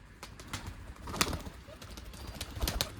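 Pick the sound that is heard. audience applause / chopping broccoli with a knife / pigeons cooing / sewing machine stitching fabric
pigeons cooing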